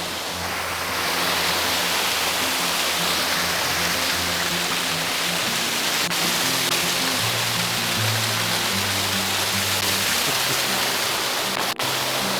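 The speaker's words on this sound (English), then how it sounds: "One of my favorite waterfalls." A waterfall roars steadily nearby, a dense, continuous rush of falling water with no voices.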